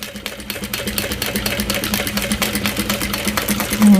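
A sewing machine runs continuously, top stitching a Howie bowler bag at an eighth of an inch, a steady mid-pitched whirring hum with rapid needle ticks throughout, fairly close and alone.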